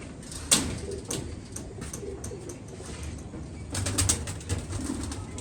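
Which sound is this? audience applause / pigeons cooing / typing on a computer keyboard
pigeons cooing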